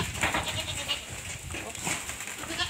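Goats bleating at feeding time, several animals calling over one another in a steady, close chorus with overlapping cries and no talk.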